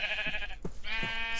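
Minecraft sheep bleating in a nasal, wavering call, broken by short thumping hits, with the bleat resuming loud and close afterward.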